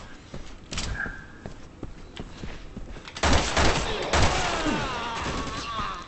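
Gunfire in the Resident Evil 6 video game, Jake's campaign on Xbox 360: scattered shots and impacts, then a dense, loud burst of firing with debris and clatter in the second half, with faint footsteps and game noise in between.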